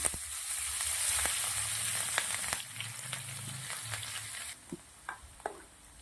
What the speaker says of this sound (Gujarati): ડુંગળી મરચાં સરસ તેલના અંદર સતળાઈ ગયા છે